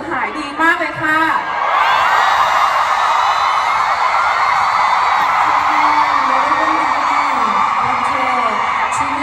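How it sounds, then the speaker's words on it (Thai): A large crowd of fans at a live concert in Bangkok screams and cheers in a continuous loud roar of high-pitched shrieks, with a few voices calling out over it near the start. "แฟนๆชาวไทยมายชาวไทยทุกคนเสียงกรี๊ดดังมากๆ"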